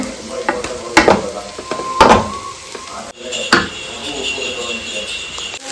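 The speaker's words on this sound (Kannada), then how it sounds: "ಉಪ್ಪು ಖಾರ ಎಲ್ಲ ಚೆನ್ನಾಗಿ ಫ್ರೈ ಆಗಿರೋದೆಲ್ಲ ಮಿಕ್ಸ್ ಆಗೋಂಗೆ ಫ್ರೈ ಮಾಡ್ಕೊತಿದ್ದಾರೆ ನೋಡಿ" Sizzling and scraping of vegetable fried rice being stir-fried in a hot pan, with rhythmic spatula strokes against the metal and a steady frying hiss throughout.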